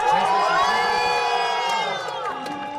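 Thousands of people cheering and shouting together at a White House welcome ceremony for India's Prime Minister Modi, the sound a loud, dense, steady roar with whoops rising above it and easing slightly near the end.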